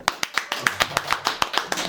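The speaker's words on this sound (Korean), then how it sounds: "박수!" A small group claps in quick, even rhythm to welcome a guest onto a talk show, with about a dozen crisp claps close up.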